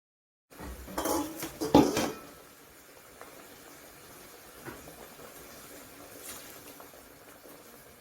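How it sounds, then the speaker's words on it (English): A spoon scrapes and clatters against a metal pot while a muthokoi mixture is stirred, a few loud knocks up front, then a softer steady hiss of simmering steam. "let me give it a stir. Stir the mixture."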